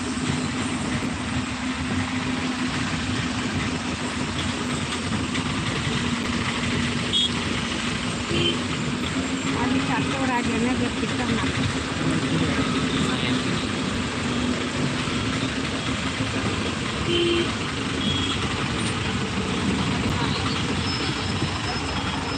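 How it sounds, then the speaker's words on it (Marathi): Constant low rumble of many idling engines in congested traffic in Beed, India, steady and unbroken for the whole stretch. "आपण पाहू शकतो मोठ्या प्रमाणावर वाहतूक कोंडी झालेली आहे"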